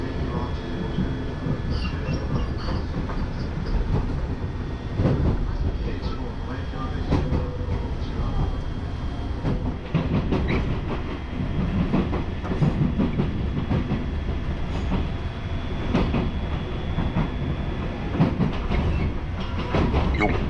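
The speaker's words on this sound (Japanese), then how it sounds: "四日市港発東藤原行きセメント貨物列車の先頭に立つ DF200 ディーゼル機関車。" A cement freight train from Yokkaichi port bound for Higashi-Fujiwara, led by a DF200 diesel locomotive, rumbles steadily past at close range with a continuous broadband roar and faint wheel clatter throughout.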